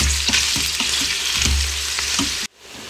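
Onions sauté in an Instant Pot for goulash, a steady close sizzle with several soft stirring scrapes, ending abruptly at the cut.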